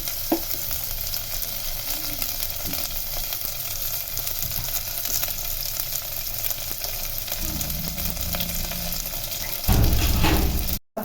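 Curry leaves spit and crackle in hot oil for a fish head curry, a steady close sizzle with a few sharp pops and a louder surge of frying near the end.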